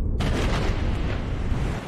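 A storm at sea: a dense, booming roar of wind and crashing waves fills the scene continuously and loudly, with deep rumbling throughout.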